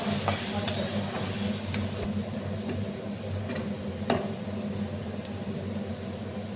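Onions fry in a pan until reddish, giving a steady close sizzle with occasional scraping stirs throughout.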